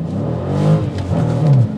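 A 2020 Dodge Challenger Scat Pack Widebody accelerates at full throttle from a complete stop, its engine note rising in a loud, steady, close roar with no talk over it.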